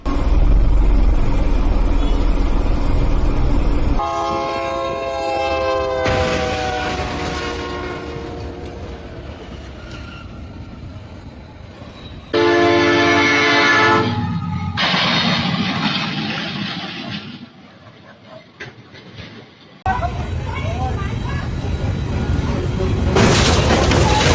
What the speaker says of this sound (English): A motorcyclist is hit by a train after ignoring level crossing barriers in Vietnam